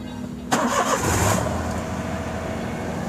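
Daihatsu Xenia engine cranks and catches after half a second of quiet, a sharp start that rises into a brief rev and then settles into a steady mid-pitched idle, close and clear with no talking.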